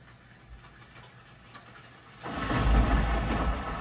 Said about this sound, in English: this is Dolby Digital Plus Rainstorm.